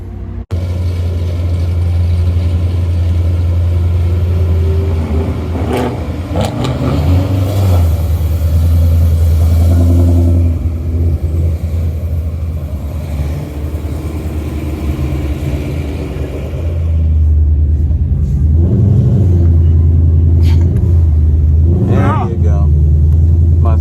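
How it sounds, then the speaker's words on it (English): A 2020 Ford Shelby GT500 with a built motor does a tire-warming burnout. A loud, close engine rumble drones continuously, with a rise in revs near the end and voices over it. "I'm still doing a burnout though. I like the tires warm."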